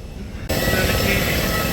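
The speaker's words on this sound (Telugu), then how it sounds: "flight దిగేసినాం air bus flight air బస్లో" Loud, steady roar of an Airbus airliner's engines and cabin noise just after landing, kicking in abruptly after a quieter half-second and holding constant to the end.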